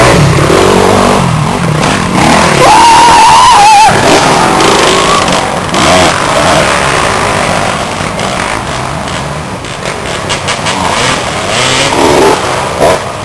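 A Kawasaki KX250 dirt bike roars and revs through a harescramble race, its engine loud and close and rising and falling between gears, with no clear talk over it.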